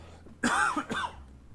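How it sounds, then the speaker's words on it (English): Two sharp coughing bursts close together, loud and close, in an otherwise quiet moment. "cough coming, please hold"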